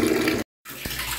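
A weak stream of tap water runs into plastic storage drums in a home, a steady splashing hiss broken by a brief gap of silence before resuming.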